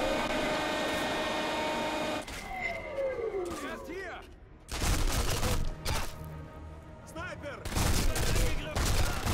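Submachine gun fire in the Sniper Elite V2 game, loud dense bursts in several stretches with echoing tails and a pause between, people talking around the shooting.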